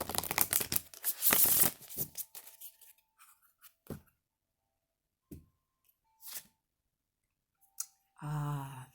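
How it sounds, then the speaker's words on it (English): Oracle cards riffled and shuffled close by, a dense burst of crisp flapping followed by scattered soft taps and a brief rustle at the end. "So let me do one good shuffle."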